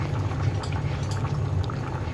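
Tulingan fish simmering in coconut milk in a cooking pot, a steady low bubbling with soft liquid pops, close and continuous.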